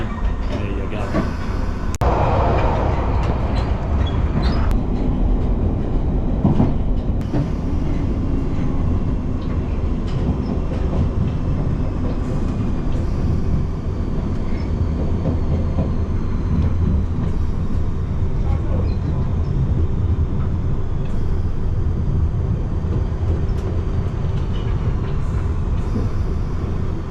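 London Underground Piccadilly Line train running, a loud, continuous rumble with rattling clatter and squeal heard from the operator's cab, steady throughout.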